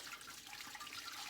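Two litres of steaming 75-degree sparge water pour into an all-grain brewing system for a Corona-style lager, a soft continuous splashing and trickling that stays fairly quiet and alone.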